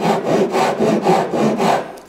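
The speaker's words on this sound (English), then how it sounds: "So we're basically going to use the rasp" A hand rasp files wood on a wooden SUP board being built, giving about seven rhythmic, close rasping strokes back and forth with no talk.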